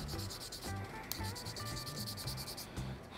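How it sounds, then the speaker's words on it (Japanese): Steady rasping strokes of a file or sanding stick against a plastic Gunpla part from an HGUC GM Ground Type kit being modified, a close repetitive scraping rhythm with no talk. "こっちもちょっと削ってやりましょうか"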